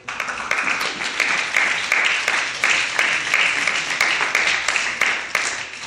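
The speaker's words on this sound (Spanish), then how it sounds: "Denle un aplauso al Rey." A church congregation applauds during a worship service, a dense, steady wash of many hands clapping that continues for about six seconds.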